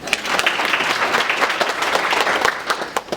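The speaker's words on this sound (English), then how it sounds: "Give her a round of applause." An audience gives a round of applause at a school business event, dense clapping from many hands close by and fairly loud, sustained for several seconds with no speech over it.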